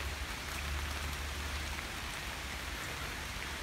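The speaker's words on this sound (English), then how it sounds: "Does it sound peaceful when you can hear the raindrops that taps on the leaves on the trees?" Raindrops tap on tree leaves in a faint, steady patter with a soft wash of rain behind it and no voices.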